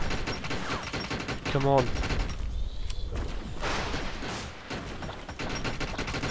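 Gunfire in the video game Defiance, dense rapid bursts of shooting, loud and close, pausing briefly midway before resuming, with someone talking over it.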